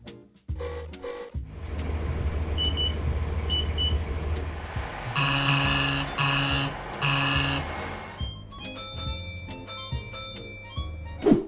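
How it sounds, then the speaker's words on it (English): In the Roblox game Stepford County Railway, electronic guard buzzer tones sound in several bursts, some long and steady, others short beeps, over a continuous low mechanical hum from a train cab. "The guard buzzer can sound different depending on what train you are guarding."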